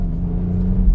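A Ford Fiesta ST mk8 three-cylinder engine with factory exhaust valves pulling hard, a loud, close, low rumbling drone that rises slightly toward the end of a very short burst.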